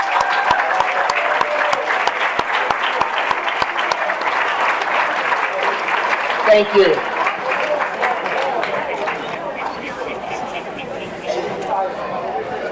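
An awards-ceremony audience applauds student athletes at a high school fall sports awards night, steady dense clapping that runs on without a break. Scattered chatter mixes in and a voice speaks briefly partway through.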